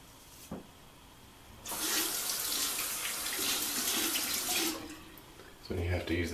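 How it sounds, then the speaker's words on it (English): Cold water gushes from a tap into a sink for a few seconds, stops, then briefly splashes again, close by. "Second pass or last pass I usually do with cold water."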